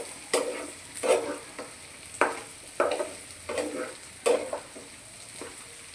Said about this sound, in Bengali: আমার ভুঁড়ি ভাজাটা হয়ে এসেছে।